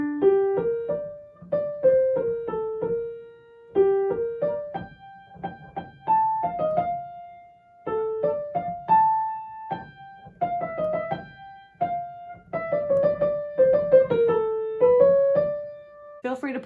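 A solo piano plays a film theme at full tempo as an easy arrangement, with clear, close single-note melody lines and light chords moving in steady phrases with brief pauses between them.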